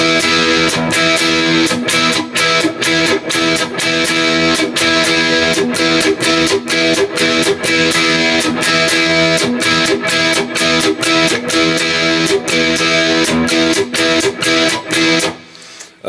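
Distorted electric guitar strummed in a steady, driving rhythm with short muted chops between chords, playing a song, loud and continuous until it stops abruptly.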